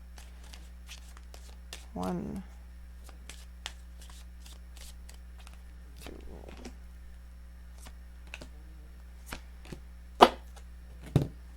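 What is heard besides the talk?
shuffling Romance Angels oracle cards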